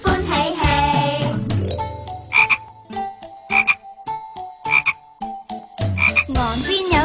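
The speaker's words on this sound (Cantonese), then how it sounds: "象邊有隻小青蛙，好似佢咁樣。" A frog croaks repeatedly as a sound effect in a Cantonese children's song, short rhythmic croaks set among a tinkling musical backing with sung passages at the start and end.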